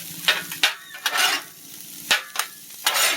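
Hibachi fried rice is stirred on a hot grill with sesame oil, giving bursts of sizzle and scraping spatula strokes at irregular intervals, close and fairly loud.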